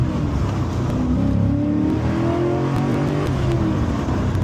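Steady loud engine drone of an HSV VE Maloo R8 ute with a 6.2 litre V8, with a sustained rising rumble as it revs on the highway, with no talking.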